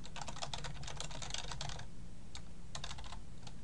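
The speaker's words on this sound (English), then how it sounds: "I'm going to type it out" Someone types quickly on a computer keyboard nearby in rapid clattering bursts, pauses briefly, then types a few more keystrokes.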